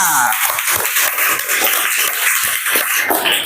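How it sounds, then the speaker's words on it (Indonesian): Children in a classroom giving a short round of applause, scattered hand claps at an uneven rhythm, fairly close and moderately loud, with faint voices mixed in. "tepuk tangan untuk Ananda Anindita"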